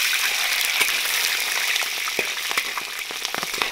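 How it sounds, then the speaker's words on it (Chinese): Scallion, ginger and garlic hitting hot beef tallow in a wok, a steady bright sizzle with crackling pops and spits throughout, close and continuous. "把葱姜蒜倒进来，"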